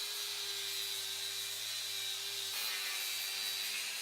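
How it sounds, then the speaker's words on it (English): Abrasive disc sander working over the wood of a log house, a steady whining drone with a high tonal hum and a faint low rumble, running continuously at close range with a slight shift partway through. "Sanding a log house with abrasive discs effectively removes the old darkened wood layer"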